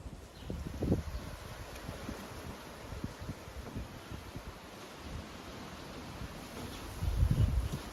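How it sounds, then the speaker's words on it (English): Strong gusty wind buffets an outdoor construction site where a concrete mezzanine is being poured, a steady rushing roar with louder gusts near the start and end. "this wind is nuts at the moment"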